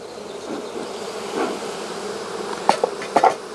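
Honeybees buzz in a soft, continuous hum close by around an open hive, with a few sharp taps and knocks toward the end; no voices.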